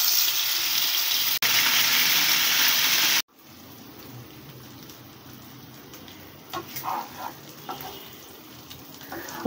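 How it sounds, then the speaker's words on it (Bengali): Chicken tikka mini kebabs frying in mustard oil in a hot pan: a loud initial hiss that cuts off abruptly, then a softer, steady sizzle with bursts of spattering crackle. "এখন আমি সরিষার তেলে মিনি কাবাবগুলো ভেজে নিব।"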